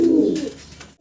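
A male almond Jacobin pigeon gives a single short, close coo that fades out within a second.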